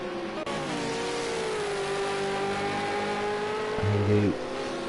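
A V8 Supercar engine drones steadily at Bathurst, holding a sustained tone before a brief rise near the end, heard at a distance under commentary.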